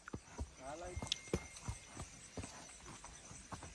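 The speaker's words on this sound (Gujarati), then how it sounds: "તો તમે જોવો છો એની ઘોડી" A mare's hooves clip-clopping at a village farm after dark, a string of close, uneven hoof strikes with a person talking softly underneath.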